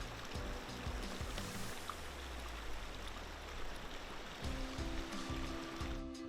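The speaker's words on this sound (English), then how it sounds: "This is the same river as before, the Cass River" Steady broadband rush of the Cass River flowing, a continuous near wash with low rumbling undertones and no voices.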